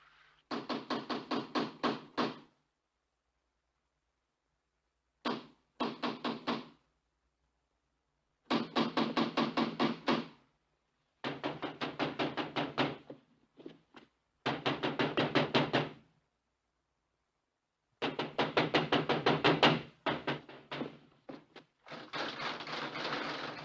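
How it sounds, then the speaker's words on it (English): Rapid raps on a door come in repeated series of quick knocks separated by pauses of silence, crisp and fairly close. "Somebody at the door."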